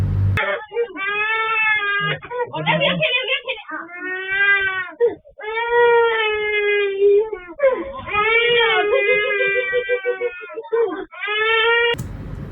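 A toddler who has just fallen cries loudly and continuously in long wailing sobs with short gasping breaks, close and dominant, with a few brief adult sounds at the start and end.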